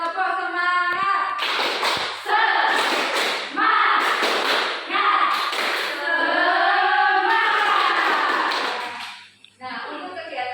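A class of children does a rhythmic spirit clap led by a teacher, sharp claps and thumps in bursts across the clip, mixed with loud chanting voices and a teacher speaking.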